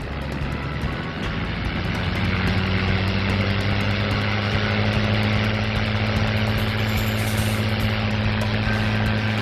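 P-51 Mustang's propeller-driven piston engine running loud and steady at takeoff, a dense continuous roar with a deep throbbing hum that stays constant throughout.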